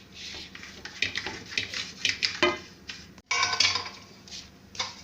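Ghee roasting in a pan over low heat for barfi, with light metallic scraping and clinking of a spoon against the pan over a soft frying hiss, fairly quiet and irregular.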